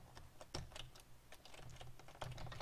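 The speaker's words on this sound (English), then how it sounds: "Can you hear me hammering on my keys?" Computer keyboard keys clatter in rapid, uneven bursts while gaming, close and fairly quiet, with several harder strikes standing out.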